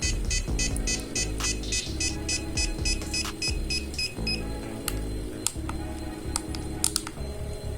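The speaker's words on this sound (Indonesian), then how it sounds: "Ketika suhu maksimal menyentuh angka segini nanti alarm akan bunyi." Repeated short electronic beeps from the buzzer of an ESP32 environmental monitor sound in a rapid rhythm, while clicking and handling noises continue underneath.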